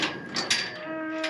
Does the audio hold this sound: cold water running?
no